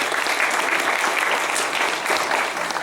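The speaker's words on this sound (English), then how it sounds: "Give her a round of applause for her great shirt." Loud, sustained audience clapping at a comic convention Q&A panel, a thick wash of applause filling the whole moment.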